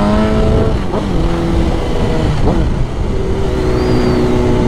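A 2001 Suzuki GSX-R 1000 motorcycle cruising on a country road, its engine droning loud and close with rising and falling pitch as it revs through gear changes, over wind rush.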